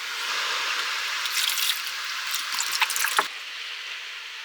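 Water pours from a Sierra cup into a cooking pot for boiling sundae at a seaside car-camping spot: a close, steady splashing trickle with a few drips near the end, then stopping.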